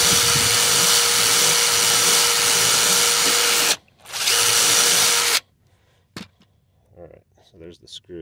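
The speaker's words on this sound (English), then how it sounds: "I'm going to run the screw in reverse to try to ream the hole as best I can" A power tool runs a screw in reverse out of a flat tire's puncture to ream the hole, giving a loud, steady motor whine close up. It stops briefly, runs again, then stops, followed by quiet clicks and handling sounds.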